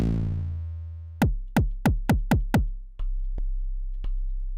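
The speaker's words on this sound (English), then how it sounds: "that is called bass drum deep, and it is indeed deep" A groovebox's deep bass drum preset plays a sustained low tone, then a rapid run of six booming kick hits and three more spaced thumps over a lingering low drone, alone and fairly loud.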